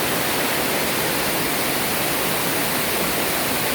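Steady roaring rush of a waterfall at Twin Lakes, Negros Oriental, dense and loud, unchanging from start to finish with no voices.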